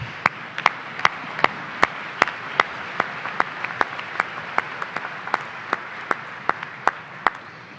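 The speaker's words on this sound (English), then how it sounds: "That's okay, you can clap." A small scattering of clapping from a commencement audience for business and nursing graduates, with sharp, separate claps at an uneven, sparse rhythm over a quiet hall background, moderately distant.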